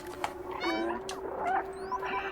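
A cat character in the video game Stray meows repeatedly, short rising and falling cries in quick succession over a steady electronic hum.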